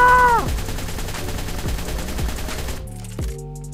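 A rapid stream of gunfire from the Ark video game, a whole magazine emptied in quick succession, loud and close with a dense rattling rhythm that cuts off near the end.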